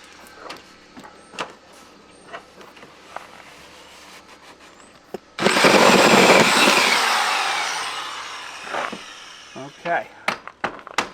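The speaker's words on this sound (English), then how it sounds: "you always got to be careful on your first hole because you're kind of drilling blind here" A drill boring through a clapboard wall for dense-pack insulation, starting as a loud sustained whine that slowly winds down after several seconds, with handling clicks and knocks before and after.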